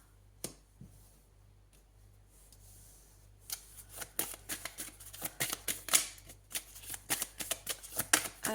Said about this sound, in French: je vais lever un petit peu les cartes